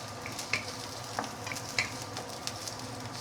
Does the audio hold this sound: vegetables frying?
yes